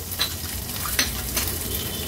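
A ghee tempering of mustard seeds, cumin, curry leaves, ginger, garlic and dried red chillies fries with a steady sizzle while a spoon scrapes and stirs the pan, giving a few soft clinks.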